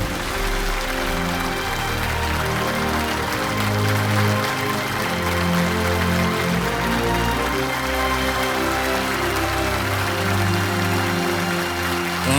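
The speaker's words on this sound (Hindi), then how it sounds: "हमारे आज के कर्मवीर पद्म भूषण डॉक्टर अनिल प्रकाश जोशी जी का तालियों के साथ अभिनंदन और स्वागत।" Studio audience on a TV quiz show applauding to welcome a guest, loud dense clapping that holds steady throughout, with music or low tonal sound underneath and no speech.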